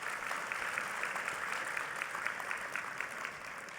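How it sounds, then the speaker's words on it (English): A large audience at the 2024 Borlaug Dialogue Global Youth Institute celebration gives sustained, even applause throughout, a dense patter of many hands at moderate distance. "let's give Ellen a round of applause as well"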